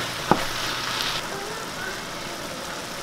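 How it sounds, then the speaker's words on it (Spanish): Beef browns in a hot pan at a taco kitchen, a steady close sizzle and frying hiss with one brief clink of a utensil near the start. "era para dejar dorar un poquito la carne"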